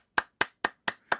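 A short burst of applause sound effect on a pocket-knife podcast: five sharp, evenly spaced claps, close and loud, with no talking.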